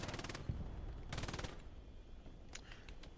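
A machine gun fires from a window in the video game Hell Let Loose, with two rapid bursts of shots about a second apart and fainter gunfire trailing after.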